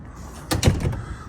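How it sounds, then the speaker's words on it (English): A camper van door slams shut and is locked, a single close thud followed by a brief metallic rattle of the latch. "Always make sure you lock the door behind you"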